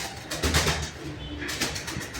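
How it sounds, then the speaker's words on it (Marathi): Two pigeons trapped in a net flap their wings in short, flurried bursts close by, with soft cooing mixed in. "हे कबूतर फडफड करत होते बघ इकडून तिकडे"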